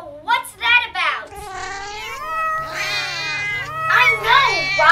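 A cartoon character in a kids' superhero show voices a run of loud, close, drawn-out meows that swoop up and down in pitch, imitating a cat over a faint low hum for about five seconds.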